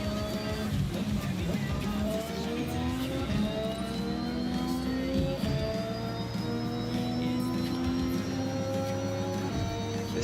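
A car in Forza Horizon 6 accelerating hard, engine pitch climbing steadily through the gears in a continuous rising whine with a brief dip partway, loud and close with no talk.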